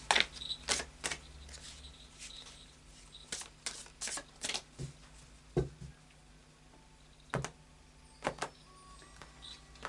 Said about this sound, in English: a final shuffle now of the Anarchy Tarot